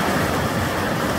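A waterfall in a gorge in Corner Brook, Newfoundland, Canada, gives a steady, dense rushing roar that stays loud and continuous, with no voices.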